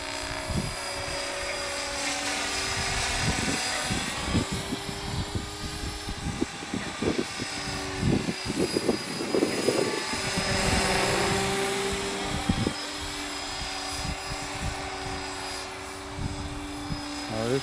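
Align TREX 500e electric RC helicopter in flight on a gusty day, its rotor whine and buzz steady throughout and fairly close, with wind buffeting the microphone.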